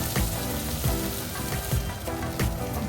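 Purple asparagus cooks in a pan with garlic and chili, giving off a steady close crackling sizzle broken by small pops.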